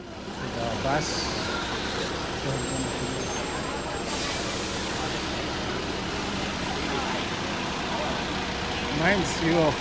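A bus engine rumbles and idles at a safari park, with a steady low drone and an occasional hiss like air brakes, while people talk over it throughout.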